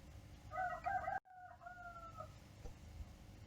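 A rooster crows once, clear and fairly close, with the call cutting off abruptly. Quieter clucks and faint farmyard background noise follow.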